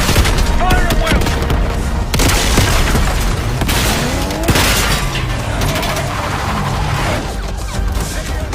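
Heavy gunfire and booming explosions from a Call of Duty Black Ops 6 battle, loud and dense throughout with rapid automatic bursts and occasional crashes, and some voices mixed in.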